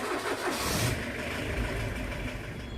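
A taxi's engine cranks and catches, then settles into a steady running hum as the car pulls away, clear and fairly close.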